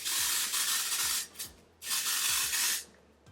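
Two long hissing sprays from a nearby spray bottle during a lace front wig install, each lasting about a second, separated by a short pause and a faint rub.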